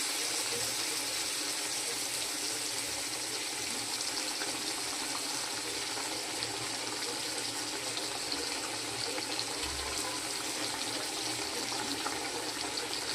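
Water pours steadily into a pan of prawn curry cooking with plant leaves, a continuous close splashing rush with no talking.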